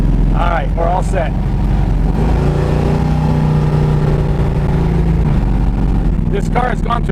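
A Dodge Dart drag car with a race transmission drives on a public road, its engine a loud steady droning hum throughout, with a brief shift in pitch midway.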